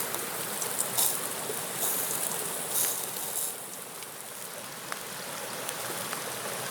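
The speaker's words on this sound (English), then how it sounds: "So with the rain coming down," Steady rain hisses down outdoors at a backpacking cook site where a small grill flame burns, with scattered drips and patters standing out over the constant wash of falling water.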